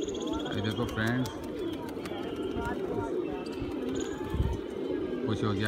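Pigeons coo in low, throaty bursts close by amid a busy outdoor background, with a voice talking intermittently.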